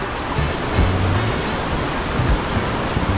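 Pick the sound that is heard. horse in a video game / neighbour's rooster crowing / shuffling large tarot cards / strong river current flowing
strong river current flowing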